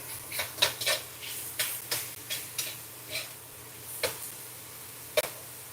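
Bacon browns in a pan for Southern fried cabbage, a soft steady sizzle broken by repeated sharp taps and scrapes of a stirring utensil, close and rhythmic.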